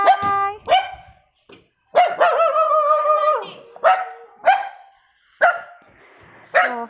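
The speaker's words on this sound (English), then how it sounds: "కుక్కలు మాట్లాడవుగా, అరుస్తాయి అంతే." Dogs bark repeatedly in short, loud bursts, with a longer drawn-out howling bark in the middle and a few whiny yips between, all close by.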